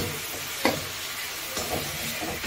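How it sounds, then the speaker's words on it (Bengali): Masala with turmeric stir-fried in a pan over a lowered flame, giving a soft continuous sizzle with a few sharp scraping strokes of the spoon, fairly quiet and without speech. "আমি হলুদটা একটু দিয়ে দিলাম, আর একটু দিয়ে এবারে মশলাটাকে ভালো করে আমি কষাব।"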